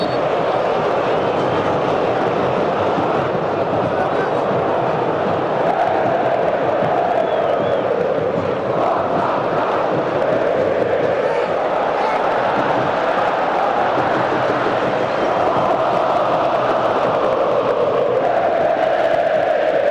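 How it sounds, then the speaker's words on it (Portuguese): Huge roaring crowd of São Paulo and Cruzeiro football fans chanting and cheering at Morumbi stadium during a 2009 Libertadores match, a loud continuous swell that rises and falls in waves. "A torcida do São Paulo reage agora à festa da torcida do Cruzeiro"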